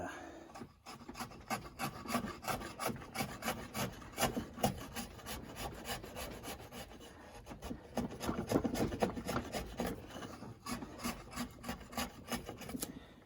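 A knife paring wood to clean saw marks from a timber frame joint, heard as steady rhythmic rasping strokes close up, continuous and fairly loud with no talking.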